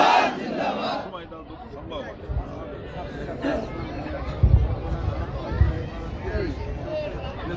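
A large crowd at a Jamaat-e-Islami rally in Khulna, Bangladesh, roaring back a chant in answer to the Naraye Takbir call, loud massed voices with shouting swelling and fading over several seconds.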